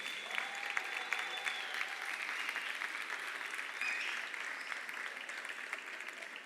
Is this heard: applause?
yes